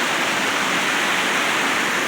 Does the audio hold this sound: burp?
no